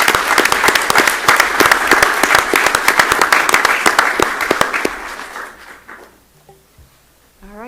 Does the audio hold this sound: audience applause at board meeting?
yes